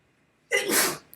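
A single close, sudden sneeze bursts out after a brief quiet moment, a breathy explosive rush that fades within about half a second.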